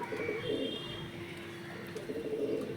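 Pigeons coo steadily inside a home loft, a low continuous murmur of several birds close by with a few higher chirps, and no voices.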